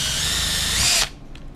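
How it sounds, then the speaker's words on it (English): A power drill bites through a plastic game controller shell, a loud steady whirring grind for about a second before the motor suddenly stops, leaving quiet room noise. "I like to go slow at first and let the drill bit do the work"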